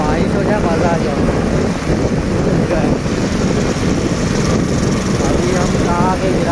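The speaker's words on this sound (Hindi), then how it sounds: "ठंडी हवा चल रही है" Steady, loud wind rushes and buffets continuously outdoors, a broad blustery roar with no pauses.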